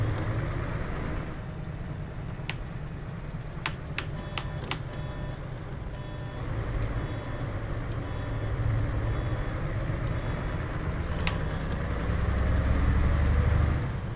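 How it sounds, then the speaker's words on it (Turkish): A low, steady bus engine drone from the Mercedes Travego in Euro Truck Simulator 2 hums throughout, rising slightly toward the end, with scattered faint clicks over it. "Kullandığım motor sesi otobüsün 1 numaralı motor sesi."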